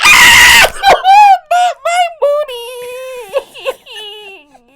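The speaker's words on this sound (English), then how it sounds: "I apologize for the scream" A woman lets out a loud, high-pitched scream that breaks into several wailing, sobbing bursts, each rising and falling and fading toward the end.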